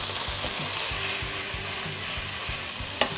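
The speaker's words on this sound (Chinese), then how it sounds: "再加入海参菇和百花菇下去炒一炒" Sea-cucumber and white beech mushrooms stir-fry in a wok with browned pork slices and minced garlic, a constant sizzle broken by regular spatula scrapes and one sharp clank near the end.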